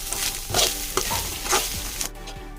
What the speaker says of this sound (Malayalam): എല്ലാം കൂടെ ഒന്ന് മിക്സ് ചെയ്ത് കൊടുക്കാം.